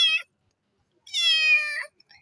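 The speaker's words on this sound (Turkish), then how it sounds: "Bu yaralı kediyle karşılaştım." An injured street cat meows twice: a short cry, then after a pause a longer, drawn-out plaintive meow, both clear and close against a quiet background.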